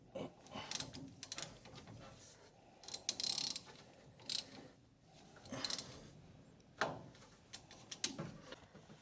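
Ratchet clicking as a steering shaft bolt is tightened on a 1986 Dodge D150 truck, several short bursts of mechanical clicks separated by pauses, close and fairly quiet, with no talk.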